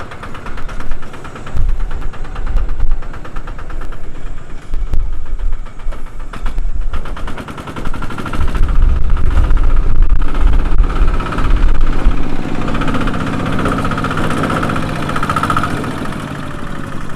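A dumper truck fully loaded with sand, fitted with a differential lock, works on a construction site as its engine roars loud and close and the wheels spin and slip in a grinding rumble that rises, then settles to a steady drone.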